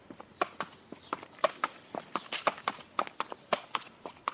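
A knight's horse travelling slowly on a clear June day, its hooves clip-clopping in a steady, even walking rhythm, close and distinct with nothing else heard.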